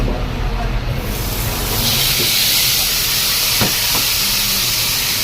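Sisig of mixed meat, chili and onion sizzles on a hot plate, a steady loud hiss of frying and steam filling the whole stretch with faint background clatter.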